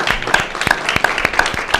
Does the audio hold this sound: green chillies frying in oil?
no